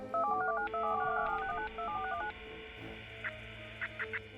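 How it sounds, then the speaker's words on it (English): Telephone keypad tones in the video game Machiavillain sound as a rapid run of short dialing beeps at moderate level, followed by a few faint higher chirps over a low background hum. "Some of them did make phone calls."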